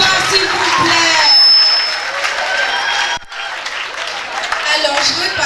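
Audience at a school academic closing ceremony claps steadily and loudly, a dense wash of applause with some cheering that dips briefly near the middle before resuming.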